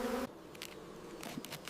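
Angry bees defending their hive in rotten wood against a honey badger make a close, agitated buzzing, with a brief loud burst at the start followed by softer intermittent buzzes.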